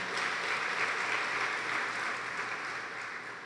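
A church congregation at a family service applauds together, a soft, even wash of many hands heard from a distance, holding steady for a few seconds before easing slightly.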